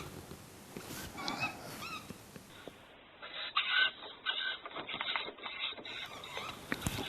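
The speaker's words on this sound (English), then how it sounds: "you can really hear them calling now" Tawny owl chicks calling from trees, heard as repeated short raspy chirps and calls, fairly close and loud, with light rustling and outdoor background noise between them.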